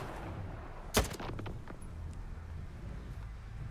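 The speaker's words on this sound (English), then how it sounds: "that guy's throwing grenades" Gunfire and a sharp explosive blast in the shooter game Stalker 2, a single loud boom followed by a few fading reports over a low ambient rumble.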